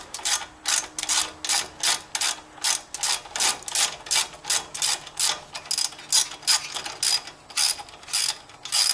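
Wrench ratcheting steadily as it loosens a 10mm bolt on a 2014 Ford Fusion strut, a quick run of sharp, close clicks repeating in bursts with no talk.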